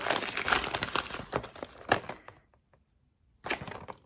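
Paper envelope and tissue paper from a motorcycle lock package being handled and opened, close-up crinkling and crackling in quick bursts, then a pause of near silence before more rustling.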